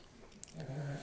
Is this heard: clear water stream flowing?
no